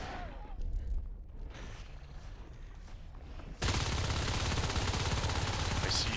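Shotgun fire in a Natural Selection style video game match, heard as a dense barrage of close rapid blasts in the second half after a quieter stretch of softer distant shots and game noise.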